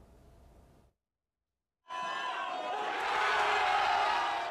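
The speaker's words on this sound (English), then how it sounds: "Cheers and applause burst out from soccer fans who aren't shy about showing their passion." Expat soccer fans in Seoul cheer and applaud in a crowd, the noise swelling after a brief silence and building louder toward the end, with faint talk at the start.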